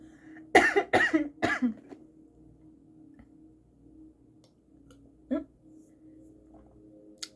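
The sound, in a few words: cough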